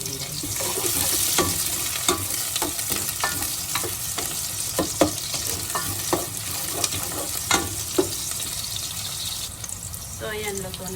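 Onion sizzles in hot oil in a pan while cooking patola with bihon and sardines, a continuous frying hiss punctuated by repeated scrapes and taps of a utensil stirring, with occasional faint talk.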